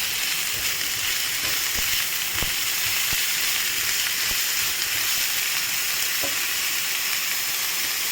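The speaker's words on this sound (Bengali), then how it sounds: "পেঁয়াজটা একটু পিঙ্ক করে ভেজে নিচ্ছি" Onion, soy chunks, ginger and garlic fry in a pan for a vegetarian pointed gourd dolma, a loud, continuous close-up sizzle and hiss with occasional light knocks of stirring.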